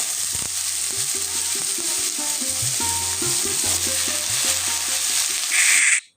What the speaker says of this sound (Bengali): হলুদের গুঁড়োটা দেওয়ার পরপরই আমি এখানে কেটে রাখা বরবটিগুলোকে অ্যাড করে দেব।